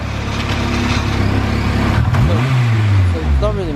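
A car with a limited-slip differential, fifth gear engaged, revs steadily with a loud low drone, then the engine note sweeps up and down in a couple of rising revs near the end, under voices talking.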